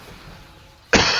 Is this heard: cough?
yes